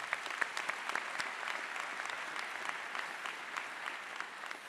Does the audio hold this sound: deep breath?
no